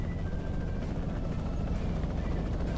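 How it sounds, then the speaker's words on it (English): A helicopter heard in Euro Truck Simulator 2 while driving a DAF F241 truck, a steady loud rotor drone that blends with the truck engine rumble and continues without a break. "Can you hear a helicopter?"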